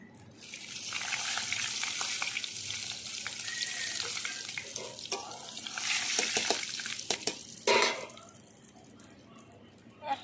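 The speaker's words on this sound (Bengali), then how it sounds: "তেলের উপরে ছেড়ে দিচ্ছি গোটা জিরে শুকনো লঙ্কা তেজপাতা" Whole cumin, dried chillies and bay leaf hit hot oil, a steady crackling sizzle that swells midway, with a few sharp clinks of a utensil near the end and a quiet pause at the close.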